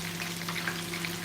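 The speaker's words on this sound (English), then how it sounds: "We are not frying, we are sealing the fish." Fish sizzles as it is sealed in hot oil for Senegalese benechi, a continuous bright crackle and hiss with a low steady hum beneath, close and alone without talk.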